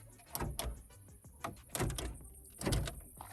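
Several clunking thuds and rattles of a VAZ 2110 car door, which opens poorly, being worked open, with short mechanical knocks spaced across a few seconds, close to the microphone.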